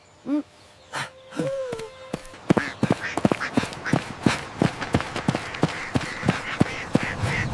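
Ducks at a duck pond, with a few nasal quacks early on followed by a rapid run of sharp, closely spaced calls and splashy knocks, fairly near and loud.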